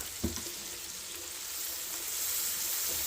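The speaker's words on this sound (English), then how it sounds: "Give that a stir." Bay leaf stirred in hot oil in a pan, a steady frying sizzle and hiss that builds slightly, with a single soft knock near the start, close and alone with no voices.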